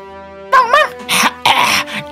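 Dog barking, a run of several close, loud yips and barks in quick succession, with short whimpering tones between them and no talk.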